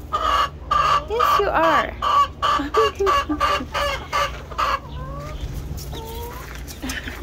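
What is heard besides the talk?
rooster clucking and crowing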